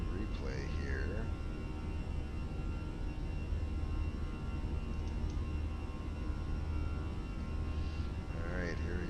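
Airbus A320 engines holding climb thrust in Microsoft Flight Simulator 2020, a steady, loud broadband roar with a constant low rumble that runs unbroken throughout, with brief faint voices in places.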